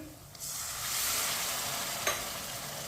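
Masala frying in a pan hisses and sizzles loudly and steadily once a little water is poured in over high heat, with a brief sharp burst of spitting near the end.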